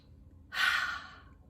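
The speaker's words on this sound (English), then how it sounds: "Take a nice big deep breath." A single deep breath, drawn in audibly close to the mic, with an airy rush lasting about half a second in an otherwise quiet room.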